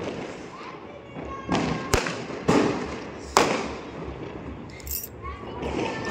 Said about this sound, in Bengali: ওই দেখুন সব ফটকা ফাটছে